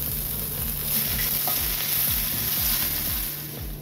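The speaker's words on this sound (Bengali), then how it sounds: "আদাটাকে ঘষে আমি তেলে দিয়ে দিলাম" Grated ginger sizzles steadily in hot oil with cumin in a pan, a close, continuous fry with light crackles for Bengali chickpea dal.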